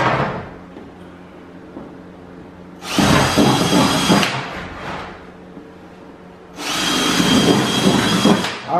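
A power drill whirs loudly in two sustained bursts of several seconds each, drilling holes while building a whelping pool, with softer rattling and handling noises between them.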